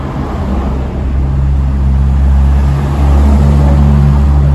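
A car at the tail of a Koenigsegg convoy rolls through Monaco, its engine a steady low drone that swells slightly louder and closer over a few seconds, with no voices.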